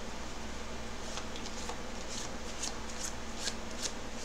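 Tarot cards are shuffled for a reading, a soft continuous riffle of card edges with several crisper flicks near the end, close and unaccompanied by speech.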